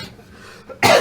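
After a moment of quiet breathing, one sharp, loud cough bursts out close by.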